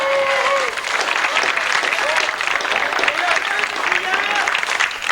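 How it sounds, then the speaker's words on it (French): A crowd applauds an accordion player on an expedition's arrival at Fort Témiscamingue, a steady wash of clapping that runs throughout while voices call out over it. "On peut l'applaudir encore une fois"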